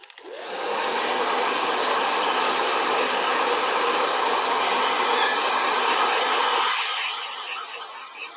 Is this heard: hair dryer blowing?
yes